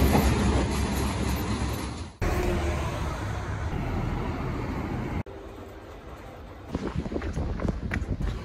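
Okuizumo Orochi sightseeing train running on the Kisuki Line, a steady loud rumble of the carriages rolling along the track with abrupt cuts in the noise and some rattling toward the end, no voices.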